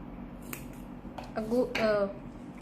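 Scissors snip through crochet yarn in a few quick, close crisp cuts, with light background noise and a faint voice nearby.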